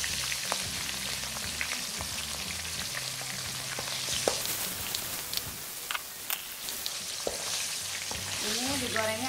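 Shallots and shrimp paste sizzle and crackle in hot oil in a pan, with steady close frying and occasional scrapes and clinks of stirring.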